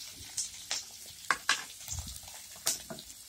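Potatoes, curry leaves and green chillies frying in hot oil, with a soft sizzle broken by several sharp stirring clatters and scrapes of a spoon against the pan, close and fairly quiet, with no talking.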